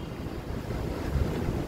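A breezy outdoor day under overcast skies, heard as a steady broadband rush of wind buffeting the microphone with no other distinct sounds.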